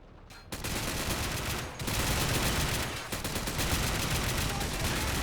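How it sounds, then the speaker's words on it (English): Dense, continuous gunfire from a Call of Duty: World War 3 mod, with Russian infantry engaging an American-held checkpoint in a modern line defense battle; rapid overlapping shots and bursts roar loudly and steadily throughout. "Ooh, and the firefight is underway."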